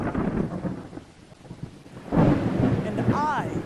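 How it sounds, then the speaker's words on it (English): Thunder rumbles low through a stormy night scene with a steady hiss of rain; the rumble swells in the second half, and a voice briefly rises near the end. "It's a stormy night with lightning."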